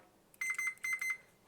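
A multimeter set to continuity test gives short electronic beeps while checking a wire on a Frigidaire washer control board, two pairs of crisp tones close and clear over a quiet background.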